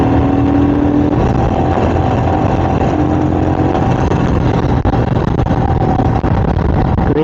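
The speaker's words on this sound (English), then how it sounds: "In the lower gear you just have to put the acceleration and the bike is like doing the sound." A Royal Enfield Super Meteor 650 motorcycle with its long-stroke twin engine revs in a lower gear, a loud, steady, rumbling exhaust drone that holds throughout without pauses, with no speech over it.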